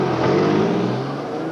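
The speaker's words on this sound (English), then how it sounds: "Nissan 300ZX Turbo. You know the car." A Nissan 300ZX Turbo's engine revs and accelerates, a loud sustained drone that swells and then eases slightly, with no talking.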